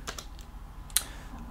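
Keystrokes on a computer keyboard during a Linux system install, a few quick taps up close followed by a sharper single clack, quiet and alone with no voice.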